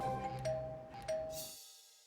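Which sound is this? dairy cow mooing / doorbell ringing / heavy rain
doorbell ringing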